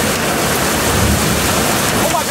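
Dense, loud hiss of heavy, cold rain pouring down steadily and close by during a Florida storm with hail and lightning, with a faint voice briefly underneath.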